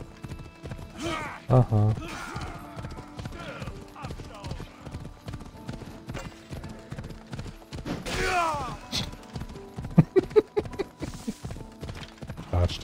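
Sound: horse galloping hooves in Assassin's Creed Odyssey video game

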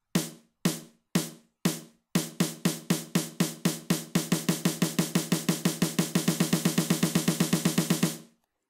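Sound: PolyNome metronome playing quarter, eighth, triplet and sixteenth notes

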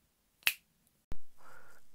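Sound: finger snap

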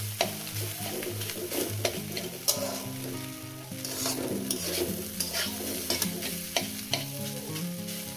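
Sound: frying chopped egg with ivy gourd in a pan

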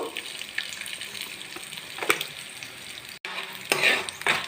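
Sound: green chilies and lentils frying in oil

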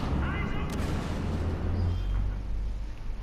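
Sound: gunfire in video game Star Wars Battlefront

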